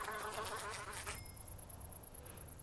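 Bees buzzing in a modded Minecraft world: a faint, droning insect buzz with a pulsing, wavering texture, and an additional brief whir near the start.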